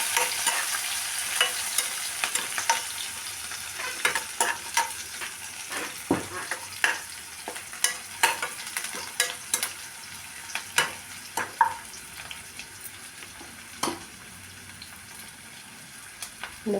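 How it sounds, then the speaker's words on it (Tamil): Onions, shallots and curry leaves sautéing in a pan for garlic sambar, gentle frying hiss punctuated by frequent clicking spatula strokes against the metal, close up with no voices. "வெங்காயம், சின்ன வெங்காயம், கருவேப்பிலை, நல்லா வதக்கணும்."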